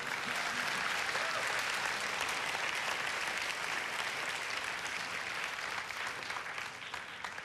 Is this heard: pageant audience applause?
yes